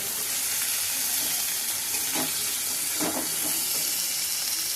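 Food sizzles steadily in a frying pan after salt is added, with a few soft scraping stirs breaking through the continuous hiss, near and fairly loud, no talking.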